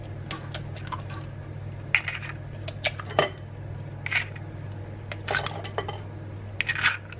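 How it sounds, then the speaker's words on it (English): Four eggs whisked into a chocolate chip bread batter in a bowl, a whisk clattering against the sides in quick irregular bursts, close and fairly clear over a low background hum, no talking. "So we're going to now whisk in the eggs."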